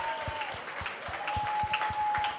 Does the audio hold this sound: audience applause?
yes